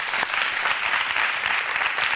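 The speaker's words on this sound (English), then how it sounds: "A round of applause for that debate." Studio audience applauds after a televised leadership debate, a short burst of loud, dense clapping with rapid individual claps audible, no speech over it.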